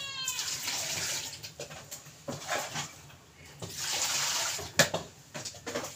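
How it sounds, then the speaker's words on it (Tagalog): Water splashes and runs in uneven bursts while a fish is scaled, with scraping clatter and a sharp knock near the end; no one speaks. "Lagyan ko tubig para hindi tumalsik yung kaliskis."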